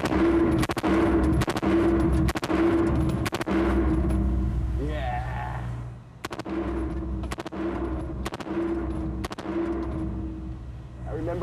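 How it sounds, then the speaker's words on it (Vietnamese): M16 rifle firing from a mounted rest on a range, with bursts of loud, sharp cracking shots separated by short pauses, and a brief spoken voice midway. "Cuối cùng đã đến thời điểm tôi chờ đợi để bắn thử khẩu M16"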